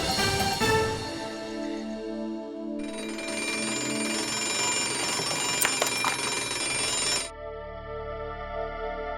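An alarm clock rings loudly and continuously for several seconds, a bright metallic bell clatter that stops abruptly near the end, with a music score running underneath and no talk.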